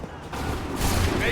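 Musket volley fire in Assassin's Creed III: a dense, sustained roar of overlapping gunshots from a line of soldiers, loud and continuous throughout.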